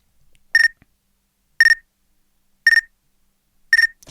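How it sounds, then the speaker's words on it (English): Four stretched electronic beeps in an experimental music sample, evenly spaced about a second apart, each a bright steady tone with a short smeared tail, loud and clear against near silence with no talking. "it's that same beep sound"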